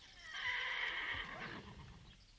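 A horse whinnies loudly and close in a 1970s Algerian rural setting, a long shrill neigh rising then trailing off over about two seconds, with no talk.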